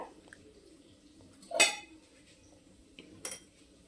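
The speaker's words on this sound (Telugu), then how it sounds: "స్టవ్ వెలిగించి తర్వాత ఒక గిన్నె పెట్టుకొని కొంచెం గిన్నె వేడైన తర్వాత" A cooking pot set down on a kitchen stove for stuffed brinjal curry gives two clinking metallic clatters a second or so apart, close and fairly soft, with quiet room noise between them.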